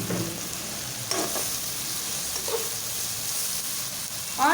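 Shredded cabbage hits a pan of already-fried peas for restaurant-style fried rice, giving a steady close sizzle with a few scraping stirs of the spatula and a louder burst near the end, with no talking.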